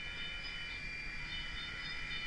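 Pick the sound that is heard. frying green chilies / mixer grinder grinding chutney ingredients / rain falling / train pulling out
train pulling out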